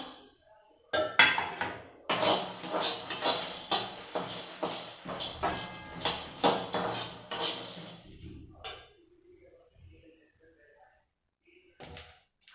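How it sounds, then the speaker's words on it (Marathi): Peanuts roast in a hot kadhai while being stirred, making a loud, dry rattle in rhythmic surges that fades to near silence near the end. "शेंगदाणे आपण ह्यात भाजून घेऊ."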